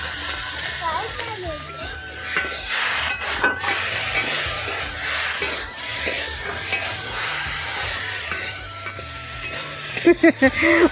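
Broccoli sizzles and crackles in a hot wok while a utensil stirs and scrapes through it, with a few metallic clinks near the end.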